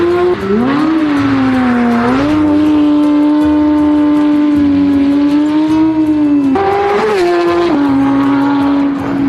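A rebuilt Porsche wreck with over 500 horsepower driving hard on a wet professional race track, its engine roaring loud and close in a sustained high-revving drone with pitch rising on acceleration and dipping at shifts, no voices.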